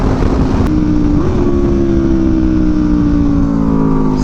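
An Aprilia RSV4 Factory motorcycle engine fitted with an SC exhaust runs loud and steady, its tone rising slightly once before holding a throaty, continuous hum with no talk over it.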